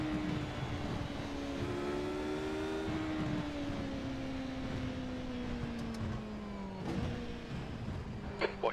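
Race car engine in the iRacing simulator holds a steady, droning tone that slowly falls in pitch as the car slows, with a few brief clicks near the end and no talking.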